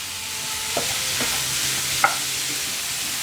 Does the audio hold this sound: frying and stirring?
yes